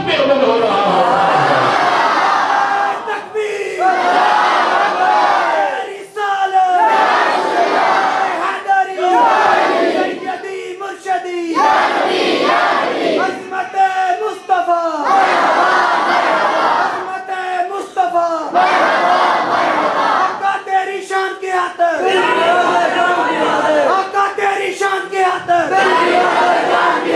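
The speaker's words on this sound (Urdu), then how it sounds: "بڑے ذوق شوق کے ساتھ آپ نے نعرے لگائے" A large crowd at a Milad gathering in Sardhoke, 2012, chants religious slogans with fervour: loud, massed voices rise in repeated rhythmic surges and call-and-response bursts that fill the space throughout.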